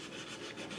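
Paper is rubbed off an image transfer on wood in quick, soft, rhythmic scrubbing strokes, faint and close.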